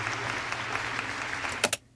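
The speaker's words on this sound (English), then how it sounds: "Let's go with polite applause, because nobody likes impolite applause." Polite applause from a library sound effect, a steady wash of many hands clapping at moderate level, ending with a couple of louder claps before cutting to near silence.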